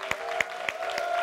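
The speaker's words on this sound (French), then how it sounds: "On va applaudir très fort, Maro, s'il vous plaît." A few scattered claps ring out at an even pace over a steady tone, sparse and fairly faint rather than full applause.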